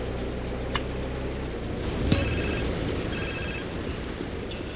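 A phone rings in short electronic bursts in the video game GTA San Andreas, over a loud, hissing noisy background, with a brief click near the start.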